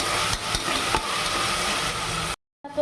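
Khichdi with peanuts and chopped coriander is stirred in a pot over a steady hiss of cooking, with a few soft knocks of the spoon, then a short silence and a brief scrape.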